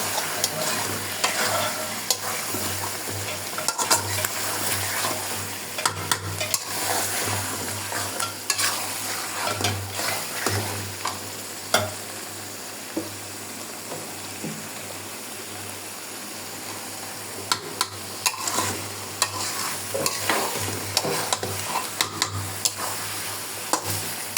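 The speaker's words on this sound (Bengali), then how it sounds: "ভালো করে কষিয়ে নেবেন" Chicken curry sizzling in a pan while being stirred and sautéed, steady frying hiss punctuated by frequent clicks and scrapes of a spoon against the metal, close-up and continuous without talk.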